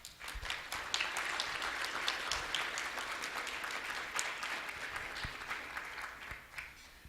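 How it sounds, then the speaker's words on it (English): A conference audience claps for student poster competition participants at a sustainability and life cycle assessment plenary session, with distinct individual claps in a steady round that tapers off near the end. "let's give them a round of applause"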